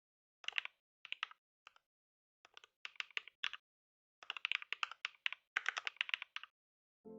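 Computer keyboard keys typed in quick bursts with short pauses, crisp and close, as code is entered for a ReactJS and Tailwind CSS live streaming website.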